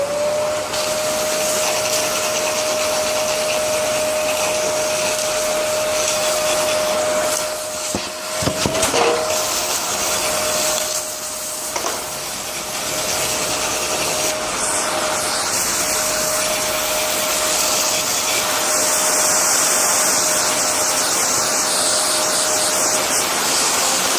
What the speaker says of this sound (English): While I'm at it, I may as well vacuum out the air filter.